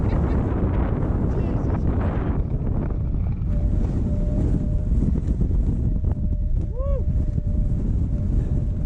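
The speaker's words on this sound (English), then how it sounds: "It is unbelievably windy." Strong wind on an exposed hilltop during a storm roars and buffets the microphone nonstop, with a brief whistling tone rising through the gusts near the end.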